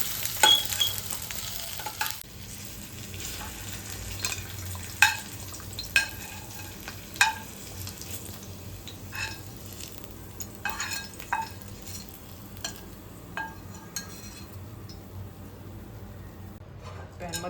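Onion and coconut roast in oil in a pan for kolambi masala, a soft steady sizzle under repeated scrapes and clinks of a spoon stirring against the pan, heard close with no talking.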